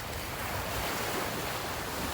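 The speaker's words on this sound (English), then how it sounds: "Sunday morning at the Atlantic Ocean here in Georgetown," Atlantic Ocean surf washing ashore at Georgetown, Guyana, a steady broadband roar of breaking waves with wind noise over the microphone, continuous and fairly loud throughout with no voices.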